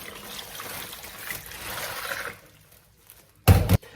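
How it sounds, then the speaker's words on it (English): Water is poured over a turkey in brine, first as a soft, steady trickle and then as a brief, loud splashing gush near the end. "And I pour it right on top of the bird."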